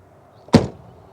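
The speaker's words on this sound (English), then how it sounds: "That's a pretty satisfying door close." A 1992 Cadillac Sedan DeVille's car door shuts with one heavy, solid thump, close and loud, followed by a brief fading rattle and then quiet.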